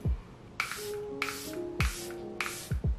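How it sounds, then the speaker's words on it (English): A makeup setting spray misted from a pump bottle, four short breathy hisses spaced evenly, close and fairly loud, each with a faint click from the pump. "It sprays quite evenly."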